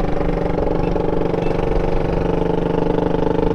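A Yamaha Scorpio custom chopper motorcycle with a rigid frame runs at a steady, loud idle-like throb, a continuous low engine note with no talking.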